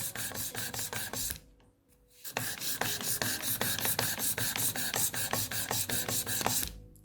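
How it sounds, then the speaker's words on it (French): A nail file rasps back and forth across a fingernail in quick, steady strokes, close and fairly loud, with a short pause before the rhythmic filing resumes; no talking. "Et ensuite, je rabats ma lime vers le centre. Toujours, je m'appuie sur le bout de mon ongle"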